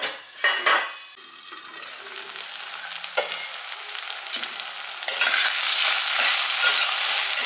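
Tomatoes sizzle in a pan while a spoon stirs and scrapes against the metal, the frying hiss growing steadier and louder toward the end, close up with no voices.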